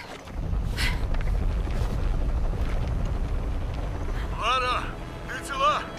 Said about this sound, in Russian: О! Это землетрясение!